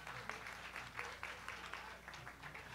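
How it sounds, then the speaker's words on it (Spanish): Faint applause rises from an audience at a book launch, the claps uneven and soft against a low hum in the room. "Fuerte aplauso, por favor."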